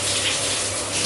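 Shower water running in a steady, close, broadband hiss for about a second, loud and even with no voices.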